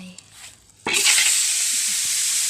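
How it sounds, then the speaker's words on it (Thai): After a brief quiet start, loud, steady sizzling of salted pork fat pieces frying in a hot pan kicks in suddenly and continues, close and crackling. "นำลงมาเจียวในกระทะตั้งไฟ"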